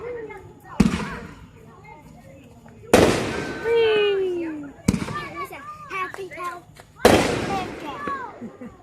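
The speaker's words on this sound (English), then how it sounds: "I love fireworks." Fireworks at an outdoor display burst loudly in four sharp booms a couple of seconds apart, each followed by crackling and whistling tails, with a crowd and nearby voices talking between blasts.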